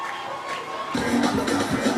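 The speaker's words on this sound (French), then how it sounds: "Est-ce qu'on peut l'encourager en acclamant?" An audience at a school excellence day event in Abidjan breaks into cheering and shouting for an artist called to the stage, crowd noise swelling partway through.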